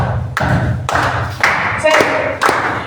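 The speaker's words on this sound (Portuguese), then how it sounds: "As palmas têm que ser nesse ritmo aqui" Church congregation at a family Father's Day service clapping hands together in a steady rhythm, a string of loud, close thumping claps repeating at regular intervals.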